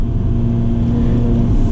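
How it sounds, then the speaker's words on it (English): A Ferrari California T V8 engine drones loud and steady from inside the cabin on a cold day, a deep, constant hum with wind rush and no voices. "We're gonna downshift to second."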